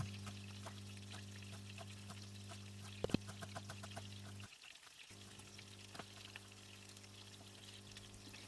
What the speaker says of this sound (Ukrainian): а на тому жирі обсмажую цибулю